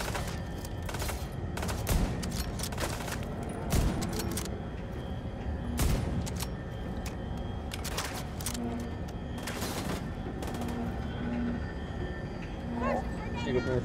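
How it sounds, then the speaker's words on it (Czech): Dense rapid gunfire and bursts of automatic weapons fire from The Division 2 shooter game on PS5, loud and continuous throughout with someone talking over the shots. "Někdo po mě střílí."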